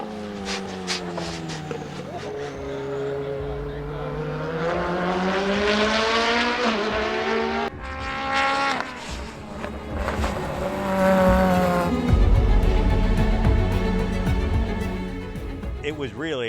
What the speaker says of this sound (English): I'm driving the Subaru Project Midnight car.